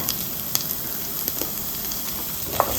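Chopped medium onion sautéing in a kadai: a steady soft sizzle with a few faint scraping stirs, no voices.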